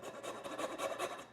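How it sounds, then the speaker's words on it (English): Whole nutmeg rasped across a grater in a few quick back-and-forth strokes for zucchini bread muffins, soft and close in a quiet kitchen. "So I'm just gonna do a couple grates of nutmeg"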